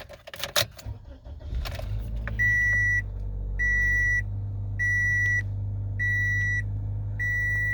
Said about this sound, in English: Go ahead and fire it up so you can take a look at these gauges.